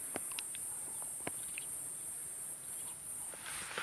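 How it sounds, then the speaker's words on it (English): A cicada drones with a thin, steady, very high-pitched buzz on an evening African safari, continuous and fairly distant, with faint scattered clicks and bird chirps around it. "That's a cicada."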